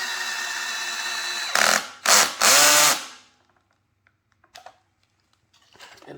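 A power drill drives screws into a homemade sofa-height table in three short, loud whirring bursts, followed by quiet with a few faint clicks and handling sounds.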